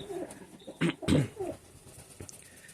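Pigeons coo in a loft, a few close, soft throaty calls and rustles over a quiet room background.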